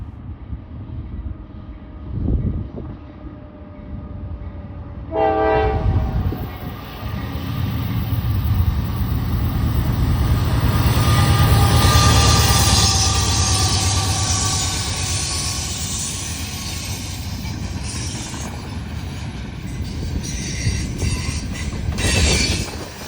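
An eastbound Norfolk Southern manifest freight passes at Alliance, Ohio, led by two GE locomotives with a third as a rear DPU. It builds into a loud, sustained roar of rolling cars and wheel noise, with brief squeals, then fades slightly. No voices.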